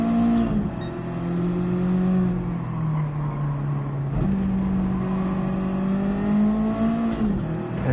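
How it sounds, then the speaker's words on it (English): A turbocharged race car engine in Gran Turismo 7 holds a loud, steady drone through the gears, with its pitch shifting at each change and a whooshing turbo whine above it, with no voice over it. "I love the sound of turbo"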